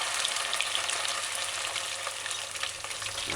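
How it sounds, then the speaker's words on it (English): Chicken pieces crackle and sizzle in hot oil, a constant busy hiss with scattered pops throughout, close and fairly loud. "make sure all the chicken pieces can get their own little oil spot to fry."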